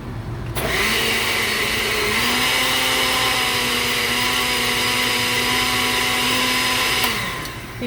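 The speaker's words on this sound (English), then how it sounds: "If your blender is not blending, maybe you can add a little bit more milk in it or water." A kitchen blender purees cauliflower mash for a cauliflower mash and pan-seared salmon dish, starting with a click and holding a steady, loud whirring motor drone for several seconds before shutting off.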